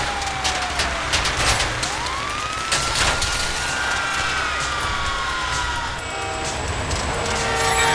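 A loud train in the video game GTA 5 rushes past with a rising-and-falling horn tone, rumbling wheels and clattering bursts throughout, heavy and close.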